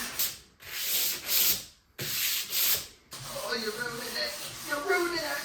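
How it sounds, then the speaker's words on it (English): Sandpaper rubbing over a 1960s teak sideboard being restored, in close, loud back-and-forth strokes: two bursts, a brief pause, two more, then softer continuous scratchy rubbing. "So I'm just going to hit it with some sandpaper and get it all ready for the next phase"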